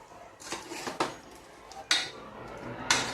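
A spoon clanks and scrapes against a metal cooker pot while chicken is mixed with coconut masala, giving four distinct knocks spaced about a second apart over quiet kitchen background.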